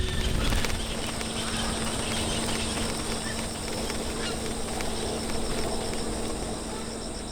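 A breeding colony of some eight thousand egrets and herons of seven species, including grey herons, great and little egrets, cattle egrets and night herons, fills a bamboo forest with a dense, constant wall of calls and squawks.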